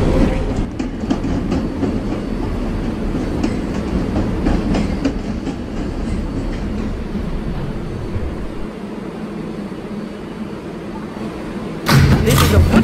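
New York subway R142A 4 train running toward Woodlawn, a loud steady rumble and rattle of the car with clicking wheels; a recorded announcement voice speaks over it, and a sharp burst near the end.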